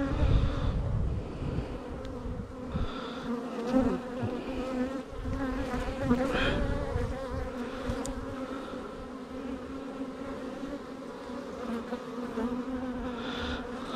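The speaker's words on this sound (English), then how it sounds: "That's a lot of bees." A dense, steady buzzing of many honey bees, loud and close, holding a continuous drone for the whole stretch with no voices.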